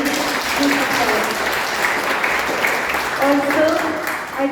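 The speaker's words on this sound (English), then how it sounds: "Let us give them a big applause." Audience applause for competition contestants at a concluding session in Jagdalpur, dense and sustained clapping from a large crowd, with voices speaking faintly underneath.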